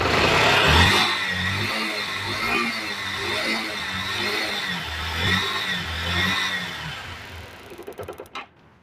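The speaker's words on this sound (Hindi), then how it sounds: "अब चलिए हम बाइक को डायरेक्ट स्टार्ट करेंगे।" A Yamaha motorcycle with a repaired CDI current fault starts and runs, its mid-pitched engine rumbling steadily at close range with small rises and falls, then a few sputtering pulses as it cuts off near the end.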